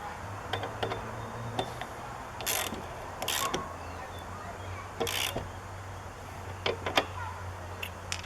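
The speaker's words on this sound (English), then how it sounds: "Tighten it down with the socket." A socket ratchet tightens the rear wiper nut on a Ford Explorer, giving short, close clicking bursts spread across the clip over a low steady hum, with brief louder rattles.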